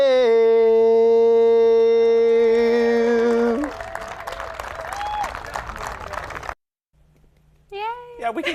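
An audience breaks into applause after a sustained sung note ends, with mixed clapping and crowd noise for a few seconds, a brief silence, then voices speaking.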